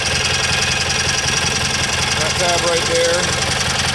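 A Kohler Magnum M18 engine on a Cub Cadet 1882 garden tractor, idling as a loud, steady, close-up rumble with a faint vibrating rattle, while someone speaks briefly over it.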